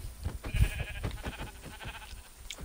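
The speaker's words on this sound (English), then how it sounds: "I found a sheep." A sheep in the Minecraft video game bleats a few short, faint calls against a busy backdrop of quiet game sounds and soft thuds.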